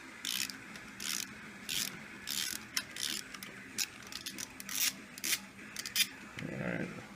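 Bursts of ratchet clicking as a bolt is wrenched off the timing cover of a Buick 455 engine, in short uneven spurts with pauses between them, close and fairly quiet.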